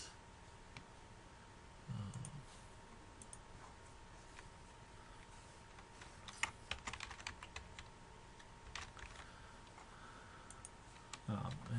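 Quiet, irregular clicking of keys on a computer keyboard, typed in short runs at close range, with a low hum in the background.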